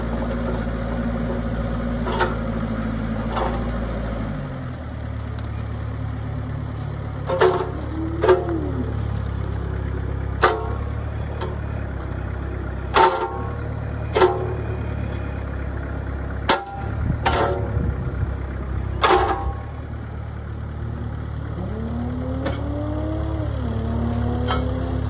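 Diesel engine of a 2008 Kubota KX121-3 compact excavator runs steadily at close range as the machine drives, a low drone with a drop in pitch early on, scattered clanks and knocks, and rising whine of hydraulics at times.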